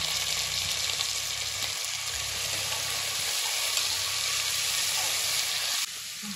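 Coriander and curry leaves saute in a pan of hot oil for a kuruma, giving a loud, continuous sizzle and hiss throughout that dips briefly near the end.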